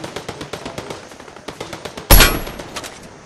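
A single loud shotgun blast with a lingering decay goes off in the Fortnite video game, played solo on Nintendo. It follows a run of quieter, steady in-game clicks and footsteps.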